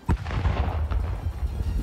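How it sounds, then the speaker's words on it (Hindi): A landmine laid in a farm field is deliberately destroyed, giving a loud, close blast with a sharp onset followed by a sustained low rumble and rolling echoes, with no voices. "इस दौरान वहां तेज धमाका हुआ।"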